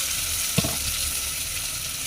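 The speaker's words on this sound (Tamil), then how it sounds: "அப்புறம் தக்காளி ஆட் பண்ணி நல்லா வணக்கி விட்டுக்கிறோம்." Tomatoes with turmeric sautéing in a pan, giving a steady, even sizzle with one brief stirring knock, heard close with no voices.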